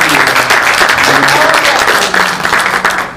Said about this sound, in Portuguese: Então eu quero que você dê uma salva de palmas para o Senhor Jesus